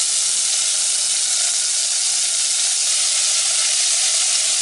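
Chopped onions sizzle in a frying pan as the aromatic base for beef meatballs in tomato sauce, a steady, loud, even hiss of frying that runs without a break and with no voices.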